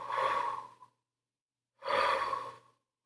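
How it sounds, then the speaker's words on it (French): Two slow, deep breaths during a shamanic meditation, each a long airy inhale-exhale close to the microphone, separated by about a second of silence. "Prends des grandes respirations."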